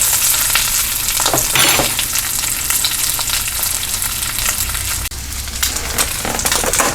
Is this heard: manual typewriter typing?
no